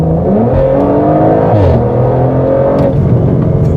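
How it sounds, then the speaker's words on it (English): A deep, throaty exhaust from an Audi RS4 Competition in RS mode burbles and rumbles steadily up close, the engine note shifting in pitch as it revs. "You can hear the exhaust burble."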